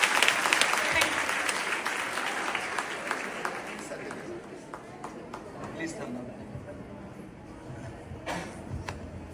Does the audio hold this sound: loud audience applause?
yes